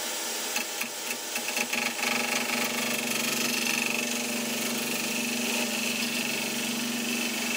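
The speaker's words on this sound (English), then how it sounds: "I'm going to use a different chisel just to get a cleaner cut" A chisel cutting yew wood on a spinning lathe, a steady motor hum with a continuous cutting hiss and a few light taps at the start.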